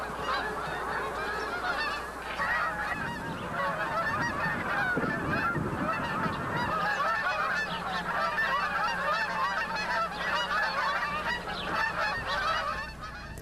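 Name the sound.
geese honking flying overhead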